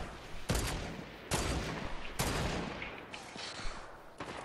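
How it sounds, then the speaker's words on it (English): Auto sniper rifle shots ring out in a squads battle royale video game, four sharp, loud cracks spaced about a second apart, each followed by a short decaying tail, with softer game noise between them. "This little auto sniper one shots."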